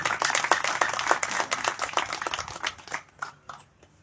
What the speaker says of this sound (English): Can we just clap for him?